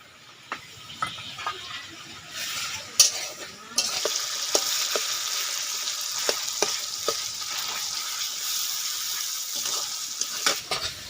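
Chopped tomato goes into onions already fried to red-brown in a pan, raising a steady loud sizzle with scattered scraping stir strokes, for a country-style Indian chicken curry with ground spices.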